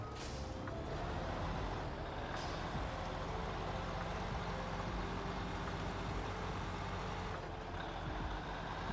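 A heavy truck engine in the video game Snowrunner drones steadily and loudly throughout, with brief hissing bursts like air brakes releasing now and then.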